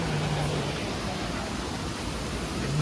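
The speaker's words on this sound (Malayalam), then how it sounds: "നല്ല മഴയാണ് കേട്ടോ" Heavy rain at Pamba on the Sabarimala pilgrimage route makes a dense, unbroken hiss that holds at the same level from start to end.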